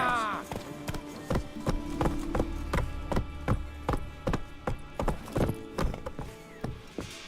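Horse hooves clip-clop at a steady walking rhythm in The Witcher 3, with wooden creaks and a short whinny, near and clear with no talk.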